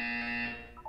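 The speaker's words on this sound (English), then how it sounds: "When you hear the buzzer, look up at the ceiling." A steady electronic buzzer tone from the Portal 2 video game sounds loud and sustained, then fades out and gives way to a pair of short higher beeps at the end.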